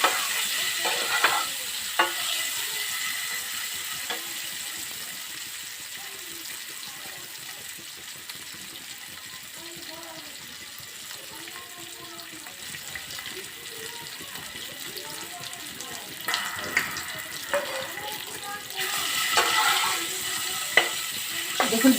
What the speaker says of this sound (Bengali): দেখুন ডিমগুলো কেমন লাল লাল হয়েছে। ডিম ভাজা আমার হয়ে এসছে।